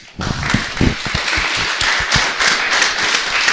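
Audience clapping at a student event in Rennes, starting abruptly as a burst of close, sharp hand claps that settles into a steady, moderately loud patter.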